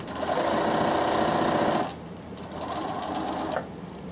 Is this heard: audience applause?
no